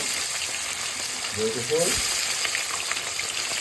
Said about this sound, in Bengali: এখন পুঁটি মাছগুলো আমি ভাজবো চার পাঁচটা করে করে ভাজবো